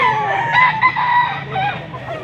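A fighting cock, a stag, crows at close range in short hoarse tonal bursts amid a busy outdoor market background of other birds and faint voices.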